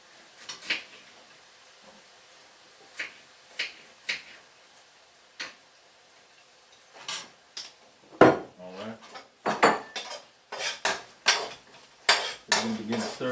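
A spoon stirs coconut aminos into sautéing mushrooms in a pan, making sparse scrapes and clinks at first that turn into a busier, louder run of metallic knocks and taps near the end.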